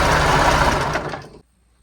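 A sewing machine runs steadily while stitching a leg band onto a cloth romper. The continuous whirring hum is close and fairly loud, then cuts off abruptly near the end.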